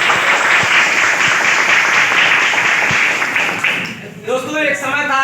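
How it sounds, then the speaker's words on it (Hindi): Loud, dense applause for gurus fills a sales meeting hall, sustained for about four seconds before a speaker's voice takes over. "और मैं यहाँ पे बैठे अपने ग्रेट गुरुओं के लिए एक जोरदार ताली होना चाहिए।"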